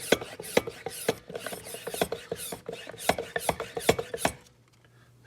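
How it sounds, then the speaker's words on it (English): A Motive Power Bleeder is hand-pumped to pressurize the brakes of a Porsche 914. Rapid, regular ratcheting clicks and squeaks come up close, then stop and leave a faint hiss. "A little pump here."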